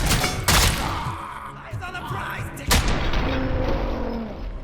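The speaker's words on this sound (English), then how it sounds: "It feels great to march through the battlefield while you're targeting enemies and splattering their brains with a well-aimed burst of your pistol" Pistol gunfire in the RoboCop video game sounds as booming bursts and thuds over dense, continuous battle noise, with louder shots standing out near the start and middle.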